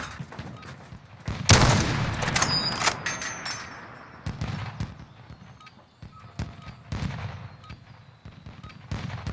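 Rapid gunfire from a Call of Duty match crackles in dense bursts, loudest early on, then continues in scattered volleys with some brief pauses between shots.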